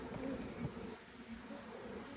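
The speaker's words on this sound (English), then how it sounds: "how the bees are, the buzzing, and the rate, the level. They are not so agitated." Bees buzzing inside a beehive, a calm, steady low hum with a thin high whine, faint and continuous with no other sounds.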